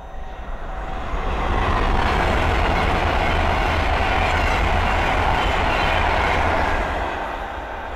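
An Avanti West Coast Class 390 Pendolino on the West Coast Main Line at Linslade rushes past close by. A loud, steady roar swells and holds, then eases slightly as the train clears.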